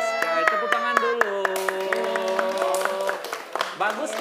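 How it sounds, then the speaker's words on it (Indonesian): Children clapping their hands in a classroom activity at MI Al Huda Gorontalo, an Islamic primary school. Sharp, evenly paced claps run throughout beneath sustained voices. "Tepuk tangan dulu."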